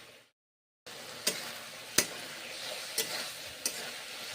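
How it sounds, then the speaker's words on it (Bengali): Grated ginger is sautéed in a pan for a vegetarian drumstick curry, giving a soft, steady sizzle after a brief silence, with a few sharp spoon taps and stirring strokes, close but fairly quiet, with no talking. "কষে নিচ্ছি।"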